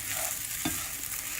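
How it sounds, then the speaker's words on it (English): Crumbled leftover idli is stirred in a hot pan for upma, giving a continuous soft sizzle with a brief scrape of the spoon partway through. "I'm going to add this idli upma, idli crumble into this, and I'm going to mix this one"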